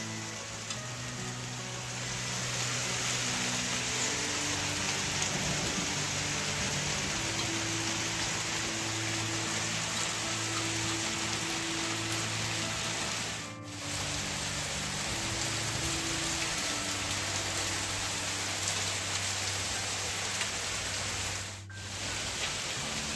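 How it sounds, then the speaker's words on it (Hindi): Heavy rain pours down in a dense, steady hiss, unbroken for the whole stretch, loud and close with a faint low hum beneath. "और बारिश की साउंड काफ़ी ज़्यादा तेज़"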